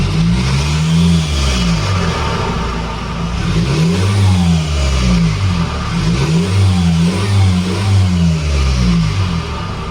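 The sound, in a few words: Honda CR-V 2.2 i-CTDi diesel engine revving with sport air filter intake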